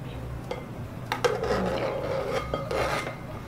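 The back of a knife scrapes across a cutting board in a home kitchen, giving a steady close-up rasping rub that runs for a few seconds with short pauses.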